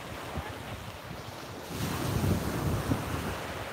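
Ocean surf and wind on a beach at sunrise, a steady broadband wash with wind rumble against the microphone that swells louder in the second half, no voices.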